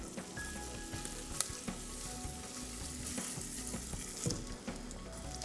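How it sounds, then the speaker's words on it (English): Chopped onion frying in hot oil, a soft continuous sizzle with occasional stirring taps and scrapes, fairly quiet and without speech. "Okay, as the oil becomes really hot, warm, we'll add about 1 medium onion chopped"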